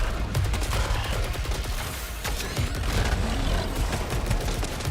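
Rapid rifle gunfire from the video game Saros, a dense, continuous stream of loud shots with overlapping impacts and game effects throughout.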